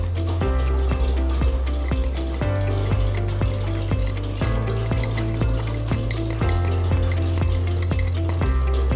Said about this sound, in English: I'm going to take my onions and I'm going to put them in the pot as well